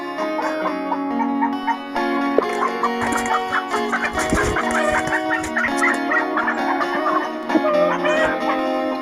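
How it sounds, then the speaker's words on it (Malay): A short-legged, feather-footed chicken crossbred with Brahma clucking and cackling close by in a coop at night, a busy run of repeated calls with other fowl noises around it. "Malam ni juga ada ayam cross saya."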